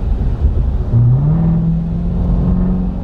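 A 2017 Corvette Z06 with a 6.2-liter supercharged V8 accelerating, heard from inside as a loud, deep rumbling engine note that rises in pitch and holds a steady drone.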